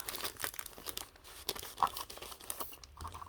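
Plastic bag holding paper die cuts crinkles and tears open close up, a steady run of crisp rustling and crackling with no talk.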